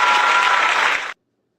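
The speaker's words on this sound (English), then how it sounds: "Let me give you a round of applause on the way out" A round of applause at a live NFL Draft show, dense loud clapping that holds steady for about a second, then cuts off abruptly into silence.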